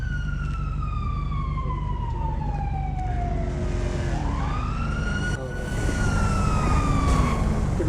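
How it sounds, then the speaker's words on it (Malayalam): A loud ambulance siren wails nearby with sweeping pitch, over the rumble of road traffic. "ആംബുലൻസ് വരും"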